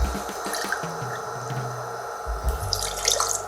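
Water poured from a 200 ml cup into a pot for a pickling brine, a continuous close splashing trickle that swells toward the end.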